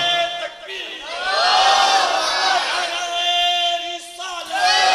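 A large crowd at a religious sermon bursts into loud, sustained chanting of a slogan, many voices cheering and shouting together in rising and falling waves, close and dense for the whole stretch.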